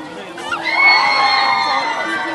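A crowd at a recreation event in Jeonju, Korea cheers and shouts. The roar swells quickly and holds loud and sustained, with children's high voices mixed in.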